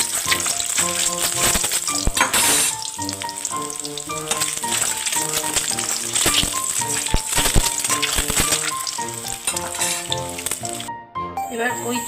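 Eggs sizzle steadily in refined oil in a wok, a constant close frying hiss running beneath prominent melodic background music, with a brief dip near the end.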